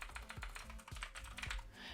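Rapid, steady typing on a computer keyboard while entering text in a title-design program, with close, crisp key clicks repeating in quick bursts and no talking.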